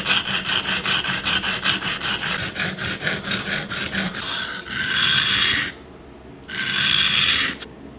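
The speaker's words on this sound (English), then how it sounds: "I just finished sharpening and polishing the smaller hook" A file sharpens a hand-forged wire fish hook with a quick, even rhythm of rasping strokes at close range, then two longer, smoother scrapes separated by a pause.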